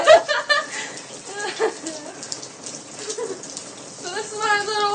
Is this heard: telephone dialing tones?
no